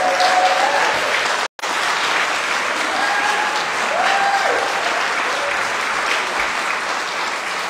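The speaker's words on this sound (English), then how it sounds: "Let's give a big cheer." A church congregation claps and cheers loudly and continuously after a Sunday service song at a baptism, a dense steady wall of applause broken only by a brief silent gap.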